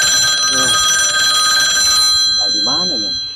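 A telephone rings loudly with a steady electronic ringtone at the start, and then a voice speaks briefly over the ringing near the end.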